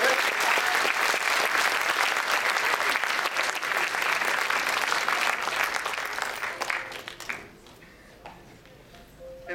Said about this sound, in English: could everybody on the Bloom team in the audience please come up on stage for a big round of applause?